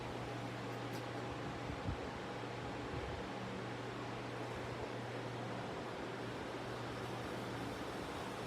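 A vintage 1981-82 Sears oscillating desk fan with filthy blades runs steadily, giving a continuous, even whir with a low motor hum throughout.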